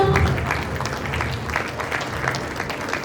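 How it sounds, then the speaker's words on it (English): An audience at a school investiture and felicitation ceremony claps in steady, dense applause that fills the hall throughout, with a faint voice near the start. "can we have a thunderous round of applause for Shreya?"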